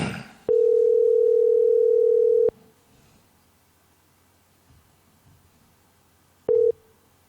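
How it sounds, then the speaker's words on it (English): Over a telephone call, a long steady electronic tone sounds for about two seconds, then near silence with faint background, then a second short tone near the end. "It's ringing. It's ringing."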